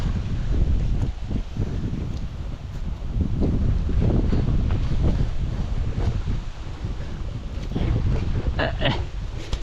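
Strong wind buffets the microphone in a continuous low rumble during lanzones picking, gusting throughout, with faint rustling in the background.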